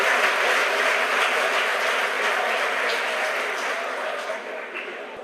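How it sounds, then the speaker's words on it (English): A crowd at SpaceX headquarters cheers and applauds during a Falcon 9 launch carrying Starlink satellites, a dense, loud, sustained roar of clapping and cheering that holds steady and then eases slightly near the end. "The crowd here at headquarters cheering."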